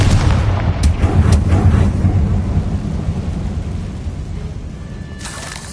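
A Confringo fire spell blast in Hogwarts Legacy booms loudly at the start, then rolls off into a long fading rumble with a few sharp crackles.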